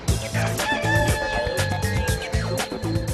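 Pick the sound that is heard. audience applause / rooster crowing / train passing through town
rooster crowing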